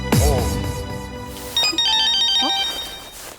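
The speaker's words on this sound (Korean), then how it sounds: "어디선가 전화가 걸려오고" A telephone rings with a bright, repeating electronic ringtone that starts about halfway through, loud and close, following a swooping tonal sound at the start.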